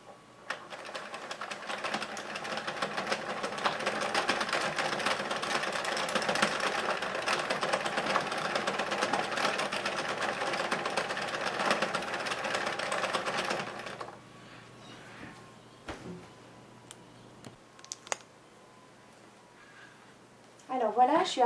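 An Addi King Size knitting mill is cranked round and gives a steady, close mechanical rattle and clatter for about fourteen seconds. It then stops, leaving quiet handling noises and a few clicks.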